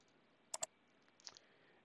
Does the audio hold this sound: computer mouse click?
yes